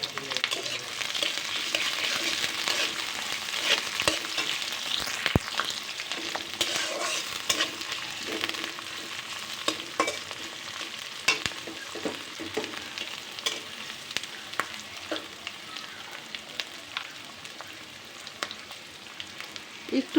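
Onions and green chilies frying in a pan spit and sizzle steadily at close range, with repeated light stirring scrapes and clicks across the whole stretch and no talking.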